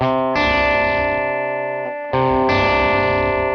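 A sustained, buzzing distorted guitar tone through a Revv G3 pedal rings out, dips briefly, then is struck again, with a low rumbling hum underneath despite the volume knob at about 3.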